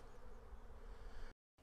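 Honey bees buzz at a pollen trap on a hive, a steady, faint, close droning hum of several insects that cuts off abruptly near the end.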